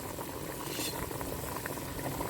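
A pot of clear pork bone and bamboo shoot soup boils vigorously, giving a continuous close bubbling and rolling roar of liquid with no voices.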